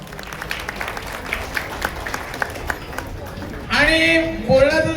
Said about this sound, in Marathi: एकदा टाळ्या वाजवूया आपण